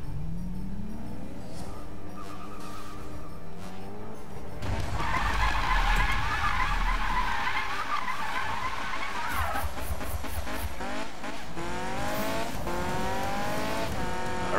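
A Mazda MX-5 drifting in the Need for Speed 2015 racing game, its engine droning steadily while tires squeal loudly and continuously through long slides, the screech rising in the middle stretch; no one speaks.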